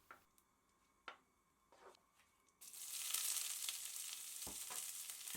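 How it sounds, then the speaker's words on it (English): Cumin seeds and onions hit hot oil in a pan for Nepali pasta: soft clicks and taps at first, then a sudden loud, steady sizzle that fills the rest of the clip. "when oil is hot, add the cumin seeds and fry until brown. Then add the onions."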